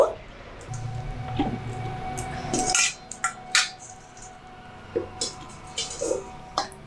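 Drained, cooled Maggi instant noodles are tipped into a separate bowl, with close clinks and scrapes of a utensil against the dish in short irregular taps, some soft wet squishing between them.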